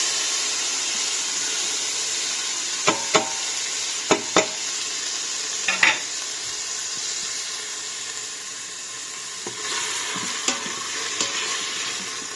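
Tomatoes drop into a little hot oil inside an Instant Pot, giving a steady bright sizzle and hiss throughout, broken by a few sharp clinks and scrapes of stirring.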